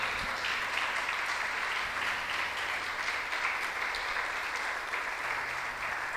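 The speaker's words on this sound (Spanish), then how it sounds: "Yo que a usted le doy un fuerte aplauso, un grito de júbilo" Steady, moderately loud applause from a church congregation during a sermon, with a continuous wash of many hands clapping and faint cheers throughout.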